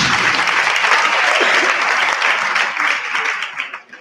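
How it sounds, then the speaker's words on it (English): A crowd bursts into strong applause that holds steady, then thins out and fades away near the end. "Give him a big round of applause."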